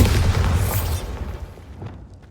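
A loud Bombarda explosion spell from the Hogwarts Legacy video game, a heavy low boom that bursts at once and then rolls away into a fading rumble over about two seconds, with no talk.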